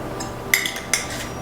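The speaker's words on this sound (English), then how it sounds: "So I put about maybe half a teaspoon of cinnamon in this shake." A metal spoon adds a half teaspoon of cinnamon to a meal replacement shake, giving two light, close clinks against the container about half a second apart over a quiet room, with no talking.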